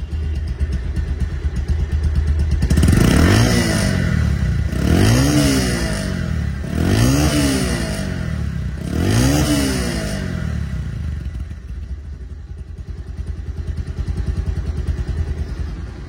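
A 2024 Bajaj Pulsar DD ABS motorcycle with about 1200 km on it runs close by. Its engine is revved in four rising bursts and then settles into a steady idle. No one speaks.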